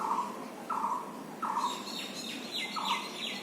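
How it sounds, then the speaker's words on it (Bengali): Birds in an urban garden call continuously, with a repeating chirp about every three-quarters of a second and higher tweets joining midway, clear and fairly close over a soft background hiss. "এই যে পাখি সারাক্ষণ ডাকাডাকি করতে থাকে।"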